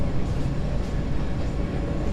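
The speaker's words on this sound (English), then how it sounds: "trains." A train passes near a farm on a rural road, a steady broad low rumble and rolling drone holding at even loudness throughout with no voices.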